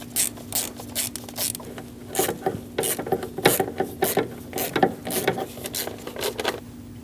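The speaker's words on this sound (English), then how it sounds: "Snug down the bolts for the coil." Hand ratchet snugging down ignition coil bolts on a Dodge Durango engine, with rapid clicking bursts and pauses at close range and no talking.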